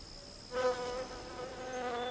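Small solitary bees buzz close by in a garden with a thin, wavering drone that swells briefly and then holds steady, alone without any voices.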